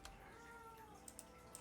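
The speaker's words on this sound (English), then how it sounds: "Kitty, kitty, where are you?" A cat meows softly in the video game No I'm Not a Human, a drawn-out, faint mew under a steady hum of game ambience, with a few small clicks toward the end.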